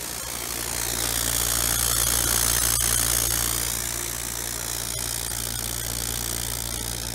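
Hydrogen gas burning at the outlet of a homemade hydrogen synthesizer that is nearly out of gas; a loud, steady roaring hiss with a low constant hum underneath, swelling slightly then settling, heard alone.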